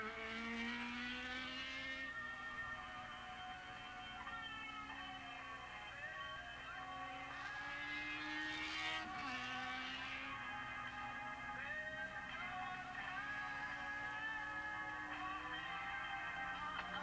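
Kawasaki 750 class racing motorcycles at Willow Springs Raceway in 1987: faint, distant engine whines rising and falling in pitch as several bikes rev and pass, over a steady low background hum.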